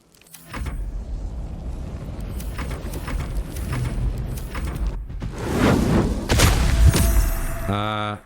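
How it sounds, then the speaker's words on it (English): Spell explosion in the video game Baldur's Gate III, a sustained rumbling roar swelling midway into a louder blast with crackling debris, while people talk underneath. "So there was an explosion."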